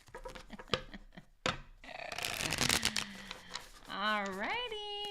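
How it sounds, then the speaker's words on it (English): Tarot cards shuffled in quick crisp riffles and slaps close by, mixed with bursts of someone talking and a rising spoken exclamation near the end. "I just want to make sure that I am shuffling these properly"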